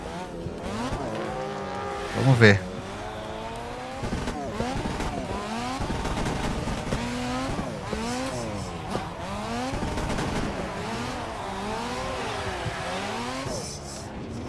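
A Mazda RX-7 drift car in a video game, its engine revving up and down in repeated rising and falling sweeps with a brief tire squeal early on, while someone talks over it.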